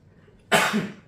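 A single short, sharp sneeze bursts out after a moment of near silence, close and fairly loud.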